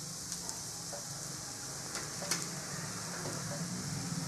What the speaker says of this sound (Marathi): चांगलं मसाल्याबरोबर फ्राय करू।